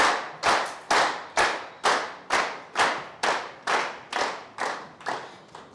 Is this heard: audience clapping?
yes